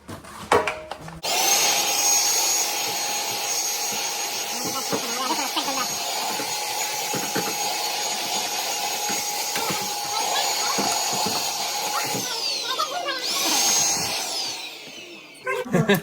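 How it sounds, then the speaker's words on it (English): A vacuum cleaner whines steadily and loudly for most of the time, cutting off briefly near the end before starting up again. "we're gonna vacuum more"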